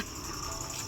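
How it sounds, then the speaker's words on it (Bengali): Crickets chirp in the dark at dusk in the Kalimpong hills, a faint, steady high-pitched trill running continuously with no other sounds. "ঝিঝি পোকার ডাক আসছে"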